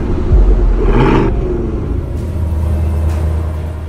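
A Chevrolet Tahoe with a 5.3-litre V8 and tuned exhaust in its loud mode rumbles nearby in a steady, deep idle, with a brief swell of revving at the start and no talking.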